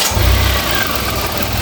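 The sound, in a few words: car engine starting and idling during an oil change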